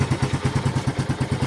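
A Kawasaki CT125 motorcycle engine runs on its own with a rapid, even thumping beat, close and steady throughout.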